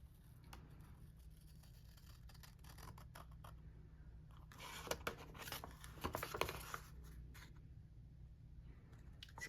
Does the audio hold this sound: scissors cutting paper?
yes